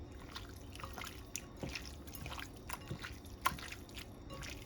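Beef liver being mixed by hand with black pepper and seasoning, giving soft, wet squelches and small liquid drips at close range, quiet and irregular with no talking.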